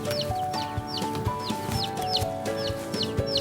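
Chickens cluck steadily on a poultry farm, with repeated rising chirps over a dense, continuous flock murmur and soft knocks, close and moderately loud throughout.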